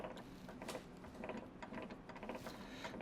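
The gearbox of a 1972 Triumph GT6 is shifted on the bench with its output shaft spinning. Faint, close mechanical clicking and a soft ratcheting of turning gears run throughout with no voice.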